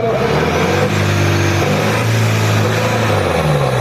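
A tractor engine revs hard and steadily in a trolley pulling contest, its deep droning pitch shifting up and down as it strains under load, loud and continuous with no clear speech.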